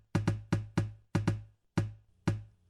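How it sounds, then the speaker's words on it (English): Improvised bass drum from a closed tube and a box struck together, seven dull, punchy thumps in a loose pattern, close and clear with short decays and no talking. "I'm going to probably use both the tube closed and the box together."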